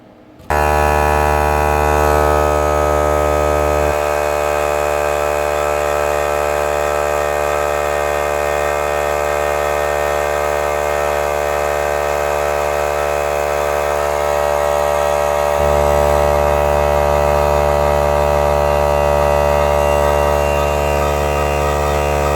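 A Harbor Freight Central Pneumatic air compressor runs loud and continuous for over twenty seconds, a steady droning motor hum with a strong buzzing tone.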